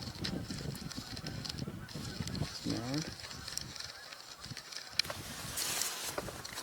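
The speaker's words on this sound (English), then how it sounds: "Hearing a lot of goose chatter." Canada geese honk repeatedly at a distance outdoors, a loose chorus of calls with one clearer burst of honks in the middle over steady background noise.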